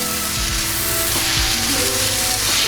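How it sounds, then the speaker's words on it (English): Oil sizzles and crackles continuously in a frying pan. The sound is loud and close, with a few low thumps from the pan. "Hear that sizzle?"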